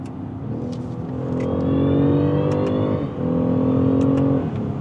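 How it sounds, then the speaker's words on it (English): A BMW 550e xDrive's B58 engine powers on in sport mode, revving up and rising in pitch, a loud sustained roar that dips briefly and surges again, with a faint electric whine above it. "But once you switch into sport mode, the engine powers on,"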